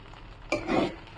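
Egg fried rice with a sprinkle of fresh coriander being stirred in a pan, a short burst of scraping and tossing that rises after a quiet start and ends with a sharp clack.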